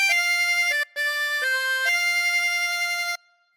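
A chromatic harmonica plays a phrase of Auld Lang Syne as a few sustained, reedy notes with a short breath gap, close and clear with no voices.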